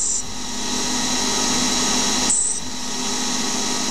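A CNC lathe threading brass at 3000 rpm gives a steady, loud, close spindle whine and cutting hiss throughout, with a short high squeal near the start and again mid-clip.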